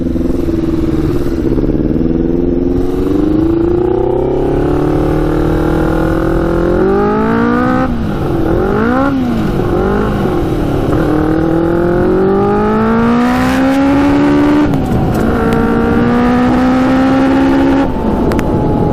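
A 100 HP Yamaha Banshee quad roars through repeated full-throttle acceleration runs, its engine note climbing steeply through the gears with brief dips at each shift, loud and close throughout with no talking.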